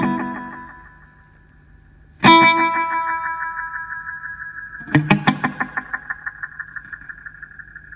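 Two picked electric guitar chords through a GURUS Echosex 2° T7E delay pedal set to short feedback each ring out with quick echo repeats that fade rapidly, the second chord's fluttering repeats dying away within a couple of seconds.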